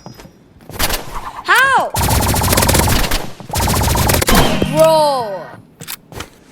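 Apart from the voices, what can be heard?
energy pistol gunfire in video game Rivals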